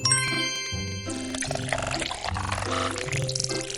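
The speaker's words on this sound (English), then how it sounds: "Pour the milk carefully." Milk pours with a bright liquid splash in a Peter Rabbit children's baking video game, steady for several seconds over tinkling, jingling game music.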